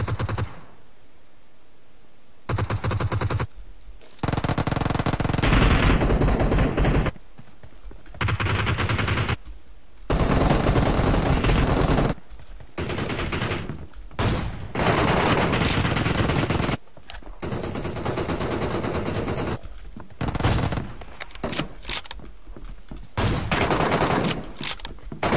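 Bursts of automatic gunfire in PUBG Mobile, rapid loud shots in several sustained volleys separated by short silences over roughly twenty-five seconds, no voices.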